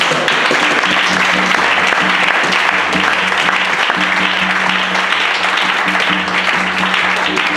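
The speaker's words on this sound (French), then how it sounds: "On l'applaudit quand même." Applause during a church service, dense sustained clapping from a congregation filling the room, steady and even for several seconds with no voices on top.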